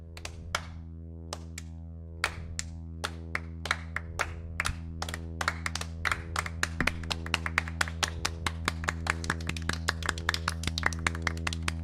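A concert audience clapping, with sparse, separate claps at first that build into a faster, denser patter over a low, steady hum.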